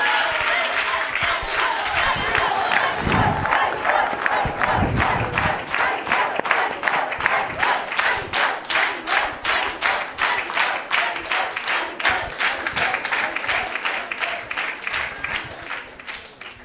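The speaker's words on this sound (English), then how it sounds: "I want to give a big round of applause to our dear Sukeshwari Mataji." Audience at a Vedic school children's program breaks into cheering, then settles into loud rhythmic unison clapping that keeps a steady beat, with crowd voices mixed in.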